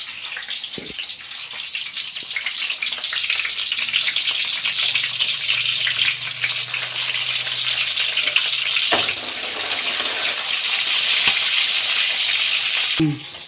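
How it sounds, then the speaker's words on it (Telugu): Chopped onions sizzling and crackling in hot oil as the base for a chicken curry, a steady loud frying hiss running throughout with a couple of brief clunks of the pan, no talking. "ఆయిల్ అయితే హీట్ అయింది. మనం ఆనియన్స్ అయితే వేసుకోవాలి."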